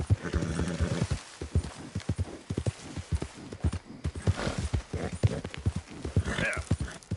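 A horse in the video game Red Dead Redemption 2 gallops in a fast, rhythmic clip-clop of hooves, close and clear, with a neigh and brief voices mixed in.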